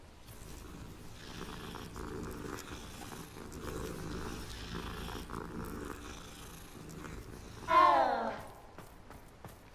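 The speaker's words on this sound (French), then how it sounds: "C'était son miaulement, ça?" A cat in Hogwarts Legacy purrs softly in a steady low rumble, then gives one short, clear meow near the end; no talking.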